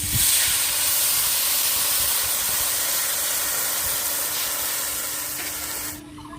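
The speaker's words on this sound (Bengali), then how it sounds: "এখন আমি পরিমাণ মতো জল দিয়ে দেবো জল দিয়ে দিচ্ছি" Water poured into a pan of deep-browned fried potatoes sets off a loud, steady hiss and spray of steam that fills the whole stretch, easing slightly before dropping off abruptly near the end.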